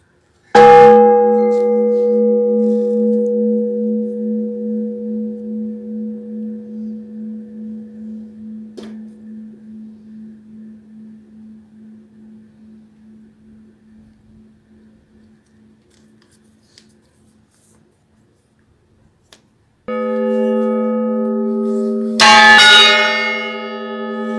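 The San Francisco Javier bell of the Iglesia de San Pedro is struck once and rings on with a long, slowly fading hum, then sounds again with bright, clanging strikes near the end.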